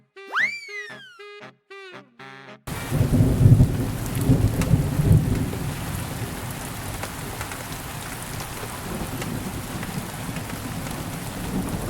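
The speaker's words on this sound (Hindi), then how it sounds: "तेज हवा चली, बिजली चमकी और फिर जोरदार बारिश शुरू हो गई।" A heavy thunderstorm with strong wind and pouring rain, the dense hiss of rainfall and rumbling thunder following a brief cartoonish boing-like tone at the start, continuous and loud throughout.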